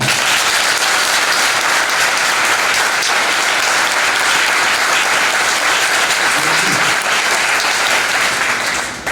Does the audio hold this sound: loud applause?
yes